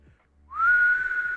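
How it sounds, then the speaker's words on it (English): A person whistles a single sustained clear tone that rises briefly then holds steady for about a second, close and loud, after a short quiet pause. "Wet lips to whistle."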